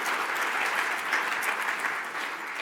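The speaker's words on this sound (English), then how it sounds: "Could we have a round of applause for them?" Audience applause at the RightsCon Brussels 2017 opening ceremony, a steady, dense wash of many hands clapping continuously at moderate loudness, with no voices over it.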